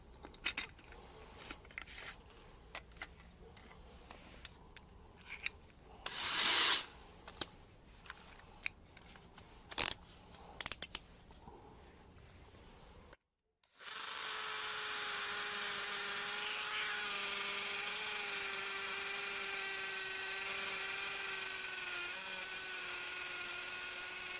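DeWalt DCD709 18 V cordless hammer drill driver spinning a bit: scattered clicks and handling knocks first, then a continuous, steady motor whine with a droning pitch for the last ten seconds.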